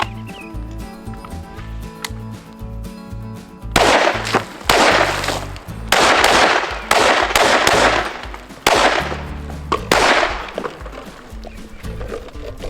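Rapid gunfire from a pistol firing FN 5.7x28mm ammunition outdoors, several loud sharp bursts of shots in quick succession with short pauses between them.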